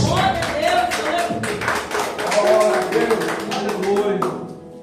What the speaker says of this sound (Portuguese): receba o servo do Senhor com palmas